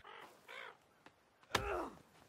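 A crow caws in the forest survival game The Forest, a few harsh calls in a row at moderate distance, with a louder, longer caw at the end and no talking over it.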